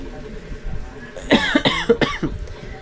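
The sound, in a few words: cough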